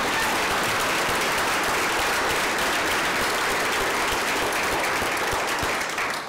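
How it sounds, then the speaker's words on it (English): An audience at a summer garden party applauds a volunteer, loud, dense, sustained clapping that carries on for several seconds and tails off slightly at the end. "Give him a round of applause."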